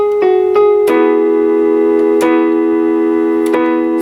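Piano playing the first verse of a song with both hands, a few soft struck chords and single notes spaced slowly apart, each left to sustain and ring, close and alone.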